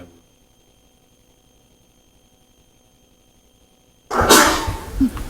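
A single loud, sharp sneeze bursts out near the mic after several seconds of near-silent room tone in a township board meeting hall.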